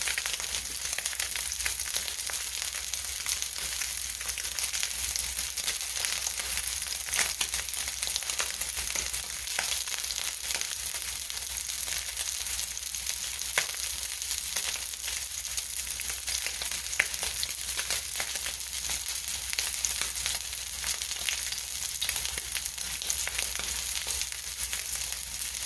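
Wild caught tuna searing in a hot pan over medium-high heat, a loud continuous hiss and crackle with scattered pops that holds steady throughout, nobody speaking.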